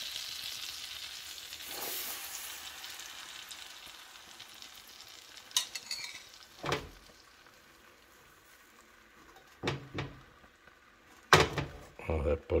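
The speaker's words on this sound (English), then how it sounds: "We've got our first crepe cooking of the day" A crepe cooks in browned butter on a large pan, a low, quiet sizzle punctuated by several sharp clunks and knocks of handling nearby.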